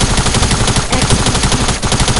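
Continuous rapid gunfire from a video game gun, loud and dense throughout with brief dips, no talking over it.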